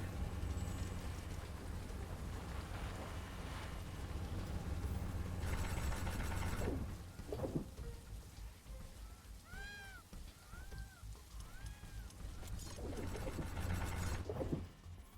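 Steady rain falls in the video game The Riftbreaker, a soft continuous hiss of drops beneath game effects and a few chirping electronic tones, at low level.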